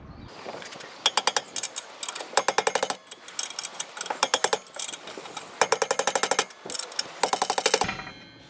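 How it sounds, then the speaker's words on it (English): A ratchet wrench tightens bolts on the rear brakes of a 2011 Toyota Sienna, loud close bursts of rapid metallic clicking in repeated strokes with short pauses between them. "Tightening up my bolts."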